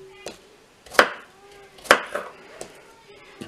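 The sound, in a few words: knife roughly chopping apples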